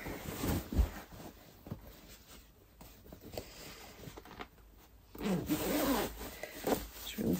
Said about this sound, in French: je vais ouvrir la fermeture éclair